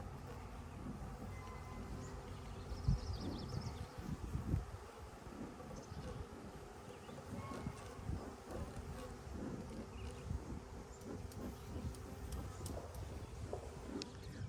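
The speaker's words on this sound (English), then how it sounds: "So the bees were a little loud today" Agitated honey bees buzzing around a hive outdoors, a dense, continuous low hum of many wings at moderate distance, with occasional faint knocks.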